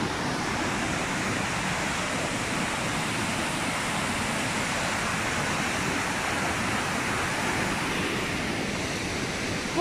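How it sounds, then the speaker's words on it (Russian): A waterfall plunging through the centre of the Alpine town of Bad Gastein produces a steady, broadband roar of rushing water, constant and unbroken throughout with no voices. "Прямо в центре города протекает водопад."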